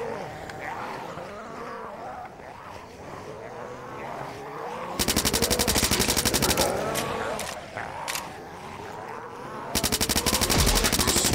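Automatic gunfire from the zombie shooter game Blood Waves, with dense rapid bursts that start about halfway through, pause, then resume loudly over a busy background of game effects.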